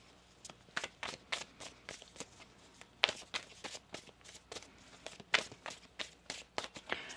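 Quiet, close riffling and tapping of tarot cards in irregular bursts, a soft papery shuffle repeated several times with brief pauses between.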